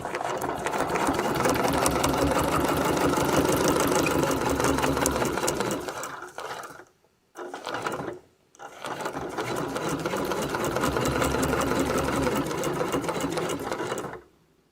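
A sewing machine stitching a wreath design runs at a fast, steady mechanical rhythm, pauses briefly twice in the middle, then resumes running until it stops near the end.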